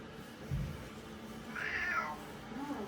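A 17-year-old cat meows during a grooming session, one low short cry early on and then a longer, higher drawn-out meow, fairly close, with faint background handling noise.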